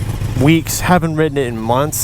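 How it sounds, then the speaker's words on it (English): A 2019 Super Adventure S motorcycle idles while warming up, its low steady engine rumble running close beneath someone talking throughout. "Sorry about the engine noise."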